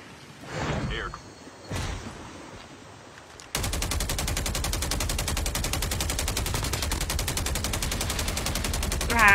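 In a video game, a couple of isolated thumps, then sustained rapid automatic gunfire rattles on loudly and continuously, like a machine gun firing nonstop.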